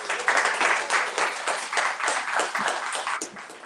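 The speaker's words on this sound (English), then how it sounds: "one more round of applause for those people" Applause from an audience at a poetry reading, dense, close clapping that swells quickly, holds for a few seconds and begins to thin toward the end.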